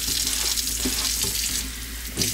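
Water runs steadily from a tap to rinse a clogged sanding pad, a continuous hissing splash close by with slight shifts in flow.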